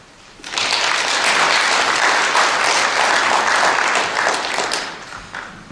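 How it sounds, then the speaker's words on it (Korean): Audience applause at a literary award ceremony swells suddenly from quiet into a full, sustained burst of clapping, holds for several seconds, then tapers off toward the end. "축하의 큰 박수를 보내기로 하였습니다."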